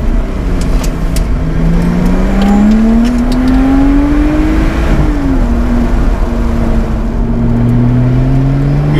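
A Lotus Exige Club Racer accelerates hard, its engine note climbing steadily through a gear, dipping at a shift, then rising again, loud and close with no talk.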